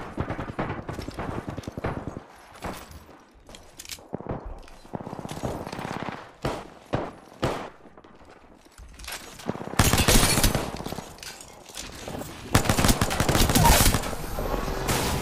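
Charge rifle blasts from an Apex Legends match arrive amid a chaotic firefight, loud, with sharp repeated bursts of gunfire that grow into dense, sustained volleys near the end.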